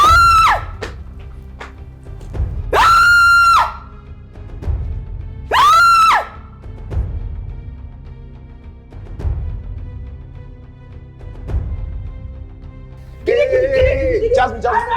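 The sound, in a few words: woman screaming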